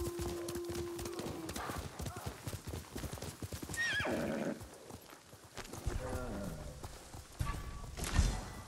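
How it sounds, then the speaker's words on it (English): A horse in the Ghost of Tsushima video game gallops with steady clip-clop hoofbeats and lets out a loud whinny, alongside game sounds and talk. "I don't remember how to jump with the horse."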